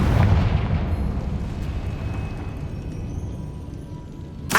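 A Confringo fire spell explodes in the video game Hogwarts Legacy, a loud deep boom at the start that rumbles and fades away, followed by a sharp burst near the end.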